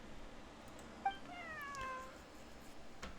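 A cat meows in the video game Genshin Impact, one clear, drawn-out meow with falling, harmonic-rich pitch over a steady background hum, fairly faint, with no talking.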